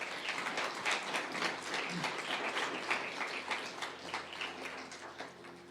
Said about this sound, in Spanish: ¿Por qué no le das un fuerte aplauso a Dios por esta palabra?